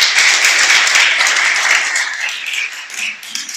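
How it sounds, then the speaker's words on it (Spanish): A congregation applauds at a church sermon, a dense burst of clapping from many hands that stays loud for a few seconds, then thins and tapers off. "Dale un aplauso al Creador."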